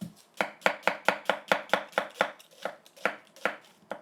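An onion is chopped with a knife on a cutting board in about fifteen crisp, evenly spaced strikes that hold a steady rhythm, heard close and clear with no voices.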